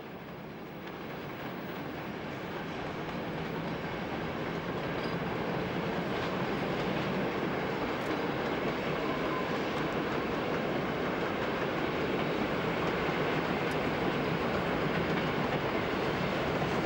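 A Berlin S-Bahn train runs through Jannowitzbrücke station with a steady, loud rolling roar and clattering wheels that build over the first seconds and then hold for the rest of the stretch, with no voices.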